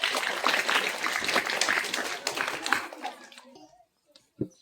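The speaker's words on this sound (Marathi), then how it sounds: "टाळ्या वाजवा दर्शनसाठी" A classroom audience of schoolchildren claps for a sixth-grade student in a quiz game, a dense burst of applause that fades after about three seconds, followed by a few scattered sounds.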